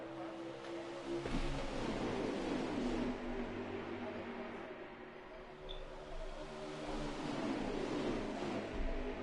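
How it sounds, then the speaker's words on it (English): Pickup trucks roar around the oval at Kansas in a racing video game, a steady continuous engine drone with a few louder swells, heard without talk. "These pickup trucks, they are fast, and they are ready to rumble here at Kansas."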